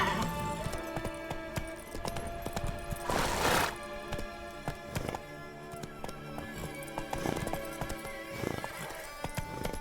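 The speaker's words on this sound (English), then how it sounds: "Whoa there, Roach." A horse gallops in The Witcher 3: Wild Hunt, with rapid rhythmic hoofbeats that rise and fall in loudness over about ten seconds and a brief whinny partway through.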